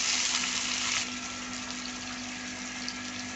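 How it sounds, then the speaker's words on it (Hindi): Chopped tomatoes stirred into garlic and ginger frying in oil for sarson ka saag, giving a steady close sizzle that is loudest in the first second and then settles into a softer, even hiss. "अब हम इसमें 2 अदद टमाटर डालेंगे काट के। अब हम इसको मिक्स करेंगे।"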